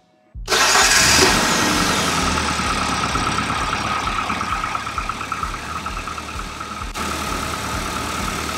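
A Classic Mini's engine cranks and catches after its fuel pump is primed, then settles into a loud, steady idle close by.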